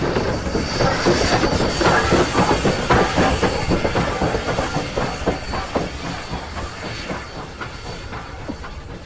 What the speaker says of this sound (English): I want to have that audio of the running gear